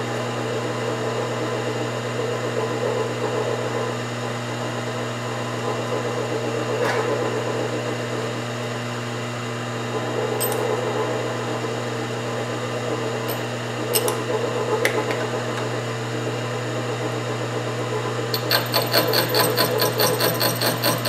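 A milling machine spins a slitting saw at 10,000 rpm while cutting an engine part. It gives a steady, high, even whine with a few sharp ticks and a brief rattling burst near the end.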